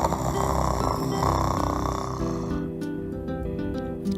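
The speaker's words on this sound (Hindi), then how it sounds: "खर्राटे लेते हुए।" Deep, rhythmic snoring of a big lion sleeping peacefully under a tree in a narrated animal fable, a steady rasping drone of repeated breaths heard up close.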